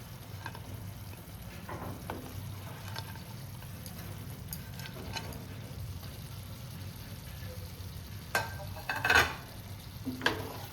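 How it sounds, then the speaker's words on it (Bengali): Fried paneer being stirred into soft cooked potatoes in a pan, a low, quiet sizzle with occasional soft scrapes that grow clearer and louder near the end. "এবার আমি এর মধ্যে যে পনিরটা ভেজে রেখেছিলাম সেই ভাজা পনিরটা অ্যাড করে দিচ্ছি"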